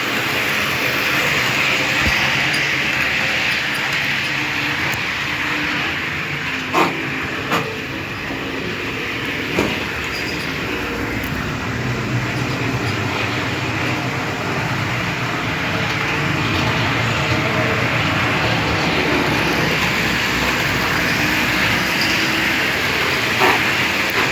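A model Škoda series 363 electric locomotive rolls along steadily with a continuous rumbling hum and occasional faint clicks from the track, no voices, fairly constant loudness throughout.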